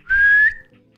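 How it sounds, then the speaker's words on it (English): A single long, sharp referee whistle blast of about half a second, clear and loud, comes from the Football Manager 2021 football game as a match ends at Old Trafford. "Blow the whistle, referee."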